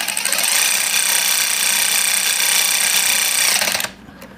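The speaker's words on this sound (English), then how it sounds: "we'll ratchet them into place" A ratchet wrench tightens bolts with a rapid, buzzing run of clicks, loud and close, that holds steady for several seconds and then stops abruptly.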